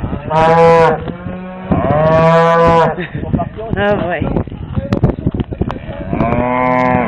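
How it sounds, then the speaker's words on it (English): Several loud, drawn-out cow moos sound close by, one after another, with a brief spoken exclamation and shuffling noises between calls. "Oh, look at all the cows."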